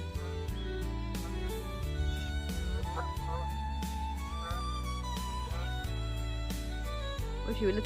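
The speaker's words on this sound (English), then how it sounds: "There's some geese in the background." Geese honk in the background at a wildlife refuge, with several scattered calls rising faintly over a steady low rumble while a person talks.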